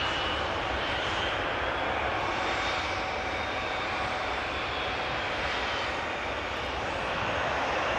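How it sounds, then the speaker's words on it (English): After landing, an SAS Nordica CRJ 900 jet rolls out with a close, steady engine roar and a high whine that hold evenly throughout. "SAS flight 1553 Nordica CRJ 900 that just landed coming from Stockholm"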